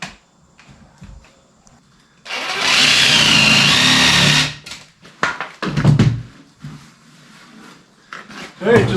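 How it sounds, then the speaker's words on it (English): A jigsaw cuts a window opening out of a stand panel with a loud, steady motor buzz lasting a couple of seconds, followed by scattered knocks and handling clatter nearby. "I just take my jigsaw and cut it out."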